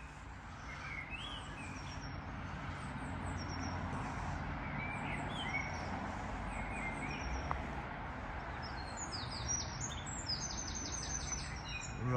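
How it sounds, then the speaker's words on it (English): A robin sings loudly in woodland, its bright, varied phrases repeating above a steady background of other birdsong and faint distant road traffic. "Robin going off its head"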